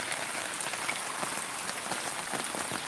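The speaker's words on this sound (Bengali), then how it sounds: "জানি না এতটা জল যে হবে বা বৃষ্টি এতটা যে হবে ভাবতে পারি না" Heavy rain pours steadily outside a house flooded by a downpour, a dense, continuous hiss of drops striking surfaces close by, with no voices.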